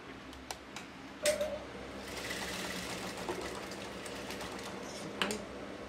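A sewing machine stitches pieces of a partywear blouse together in a home tailoring setup, a steady close whirring run after a few faint clicks, with a brief louder knock near the start and no voices.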